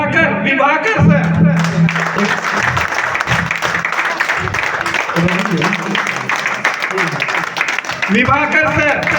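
A seminar audience applauds in a dense, loud roar of clapping and cheering, with a voice speaking over it at the start and again near the end.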